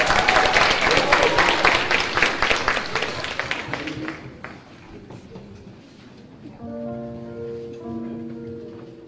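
An audience at a church event applauds loudly for about four seconds, then the clapping fades and sustained organ-like tones come in underneath.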